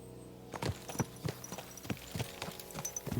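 Stags in Kingdom Come Deliverance 2 move nearby with irregular hoof clops and thuds over a low ambient bed, fairly close and steady for a few seconds.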